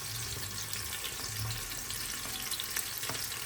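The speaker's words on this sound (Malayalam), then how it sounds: "നമ്മുടെ സവാള ഇടാട്ടോ" Onions fry in a pan for a meat dish, heard as a steady, soft crackling sizzle with occasional faint scrapes, close and fairly quiet throughout, with no voices.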